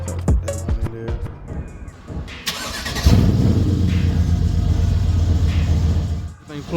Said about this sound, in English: Now I'm about to start the car